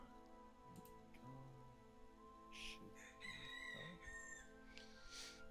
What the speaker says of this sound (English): And the roosters are back.